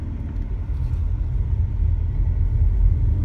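A 2002 Audi A4 B6 2.0 petrol saloon with a five-speed manual gearbox pulls away in first gear, heard from inside as a steady, low engine and road rumble that builds slightly.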